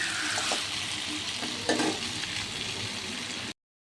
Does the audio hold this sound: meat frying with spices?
yes